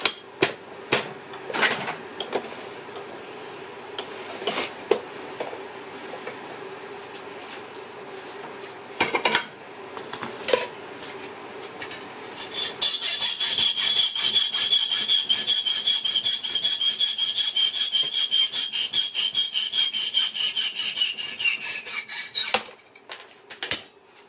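Sawing through a long, thick steel nail while repairing a broken mortar pestle: a steady, shrill metallic rasp runs for roughly ten seconds, after earlier scattered knocks and scraping.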